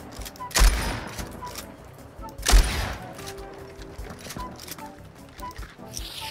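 Two sharp gunshot blasts from a video game, spaced about two seconds apart, ring out moderately loud over a busy game soundscape with people talking.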